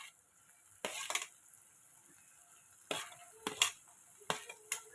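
Capsicum stirred in a hot frying pan for a capsicum, carrot and koosa curry, with several bursts of scraping utensil strokes and faint sizzle against a quiet background, no talk.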